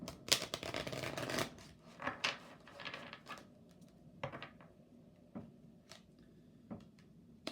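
Oracle cards shuffled by hand, a dense riffling burst for the first second and a half, then scattered softer card snaps and taps spread across the rest, close and fairly quiet.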